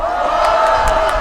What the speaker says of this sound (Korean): 자, 박수 한번 주세요.